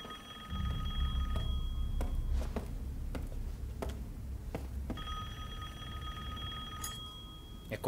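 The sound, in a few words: telephone ringing in Resident Evil Village video game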